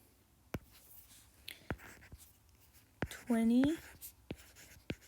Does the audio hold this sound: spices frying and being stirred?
no